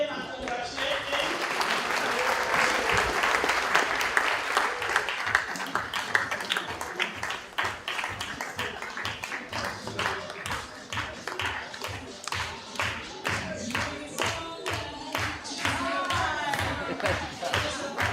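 A hackathon audience claps continuously through a long stretch. The applause starts as a dense wash, then settles into a rhythmic, near-unison beat, with voices mixed in.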